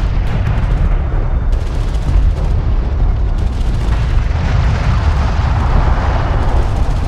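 Desert battle in the Homeworld: Deserts of Kharak strategy game, a sand skimmer vehicle under fire amid a dense, continuous roar of explosions and weapon blasts, loud and unbroken throughout.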